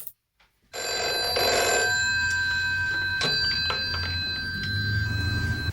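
A telephone ringing in a scene from the 1982 horror film XTRO, a steady repeating electronic bell ring that carries through the clip, clear and fairly loud, with no speech over it.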